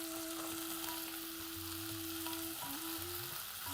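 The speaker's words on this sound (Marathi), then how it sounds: "पुन्हा व्यवस्थित त्याला परतून घेऊया" Steady sizzling as sweet potato pieces fry in a hot pan, with occasional stirring scrapes, continuous and close, no voices.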